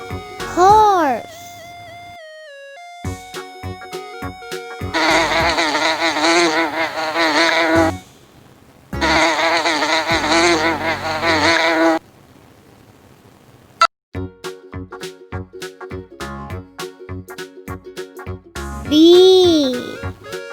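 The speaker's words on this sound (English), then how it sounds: "Bee." Bee buzzing over light background music: two sustained, loud droning stretches a few seconds apart, with a voice at the start and the end.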